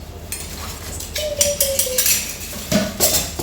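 New metal kitchen utensils, a ladle, a spatula and a rice-serving spoon, clink and rattle as they are picked up and handled close by, in a few short bursts with no talk.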